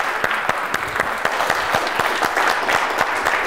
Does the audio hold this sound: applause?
yes